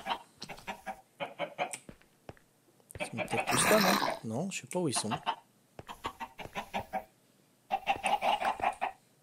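Chickens cluck in a Minecraft game world, short bursts heard between steady talk from a player, with a louder busier stretch in the middle.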